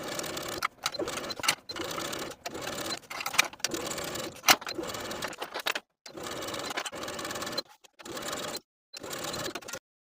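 A sewing machine runs in steady bursts while stitching the lining seam of a summer crop top, whirring for a second or two at a time with short pauses between runs.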